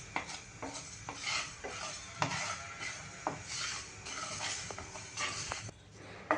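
Cumin and fennel seeds being dry-roasted in a pan: a metal spoon stirs and scrapes with repeated light clinks and soft rattling, faint and close, with no talking.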